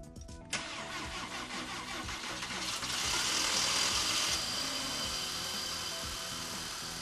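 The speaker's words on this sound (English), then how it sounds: "let's see if we get this car started" A car engine cranks briefly in minus 15 degree Fahrenheit cold, catches and roars to life, revving louder for a moment before settling into a steady idle close by.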